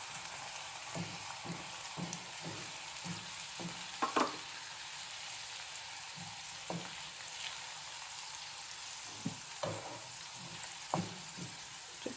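Chili powder fries in oil left over from deep-frying while chili oil is made, giving a quiet, continuous crackle broken by a few sharper taps and stirring clicks.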